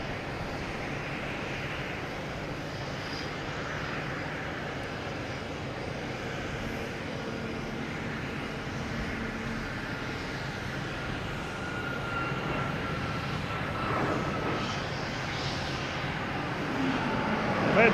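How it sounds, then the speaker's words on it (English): A WestJet Boeing 737 MAX 8 bound for Calgary roars steadily with jet engine noise at Boston Logan Airport, a broad sustained rumble that swells slightly louder toward the end, with no voices. "I've got WestJet here heading to Calgary, 737 MAX 8"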